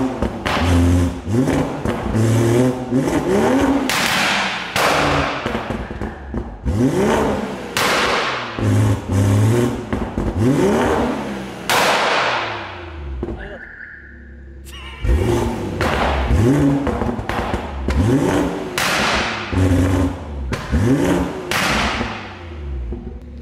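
A BMW M140i with the B58 engine in Sport Plus mode revs loudly in repeated sharp bursts, rising and falling several times with a brief lull midway, close and dominant throughout.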